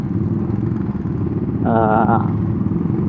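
A rare motorcycle with an upturned exhaust idles with a steady, close, low rumble while a voice briefly speaks over it midway.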